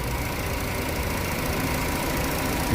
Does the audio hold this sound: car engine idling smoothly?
yes